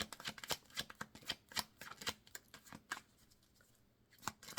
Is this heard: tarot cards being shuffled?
yes